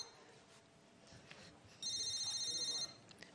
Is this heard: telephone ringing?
yes